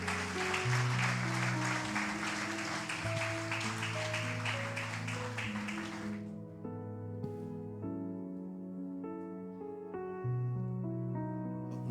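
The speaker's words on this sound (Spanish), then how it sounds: "Puedes aplaudirle al Señor." A church congregation claps along with worship music during a service, the clapping thick and continuous for about half the time before it drops away and leaves the music playing alone.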